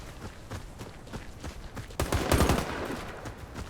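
Rapid bursts of Warface game gunfire, rattling volleys that grow louder and denser partway through, with no talking.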